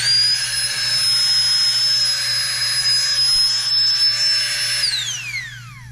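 Flextail Tiny Pump 2x, a small ultralight camping air pump, running with a loud, close, high-pitched motor whine, then spinning down quickly near the end.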